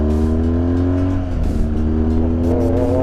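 A motorbike ridden without its exhaust baffle, the engine droning loud and close throughout with steady harmonic tones that dip and waver briefly mid-way before climbing again.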